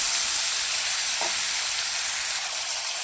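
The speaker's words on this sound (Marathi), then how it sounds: "त्याचबरोबर पनीरही फ्राय करून घेऊया।" Paneer frying in a pan over low heat, a loud, close, unbroken hiss of sizzling oil with no voices.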